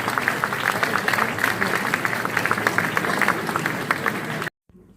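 A concert-hall audience in Saint-Raphaël claps, a dense, steady burst of applause from many hands that cuts off abruptly near the end.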